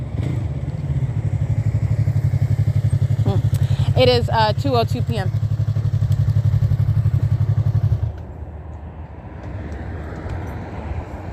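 A small motorcycle circles nearby, its engine a steady low droning buzz that holds for about eight seconds before dropping away; a voice announces the time partway through, and a brief clattering burst sounds mid-clip.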